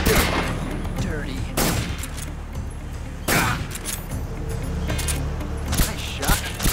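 Gunfire bursts in the Metal Gear Solid 3 video game, several sharp loud volleys spaced a second or two apart over a busy background, with game voices talking in between.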